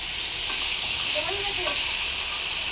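Spice paste and vegetables fry in a pan with a steady, even sizzle and hiss, close and continuous, with faint stirring scrapes and no talking.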